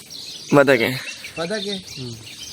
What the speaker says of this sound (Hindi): चिड़िया की, मुख्तलिफ परिंदों की चहचहाने की आवाज़ आ रही है।